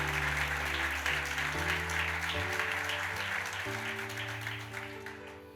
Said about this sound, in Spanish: Aplauda si le va a aplaudir fuerte a Él.